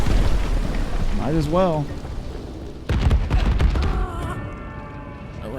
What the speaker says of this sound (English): I wasn't expecting that much of an explosion from it